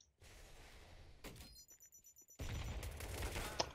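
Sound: enemy firing an AK rifle in video game

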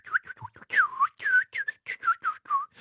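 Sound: person whistling to imitate birds

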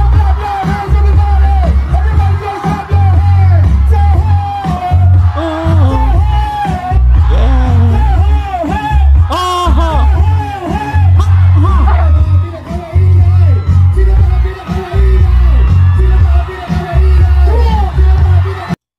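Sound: rally crowd cheering and yelling at a performance

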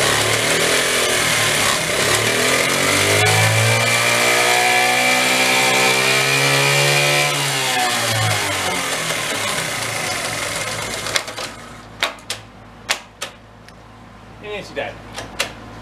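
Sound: Honda Z50 minibike engine revving through gears

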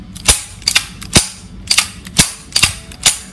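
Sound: handgun slide being pulled back several times

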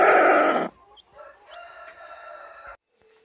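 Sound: chicks and hens

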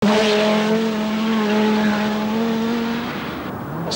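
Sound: Audi rally car engine with turbo wastegate chirruping

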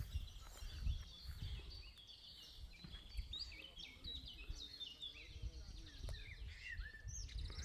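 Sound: birds chirping

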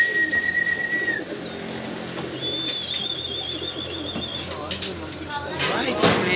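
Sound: pigeons cooing

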